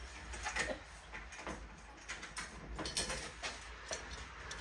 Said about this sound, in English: Take all the screws out.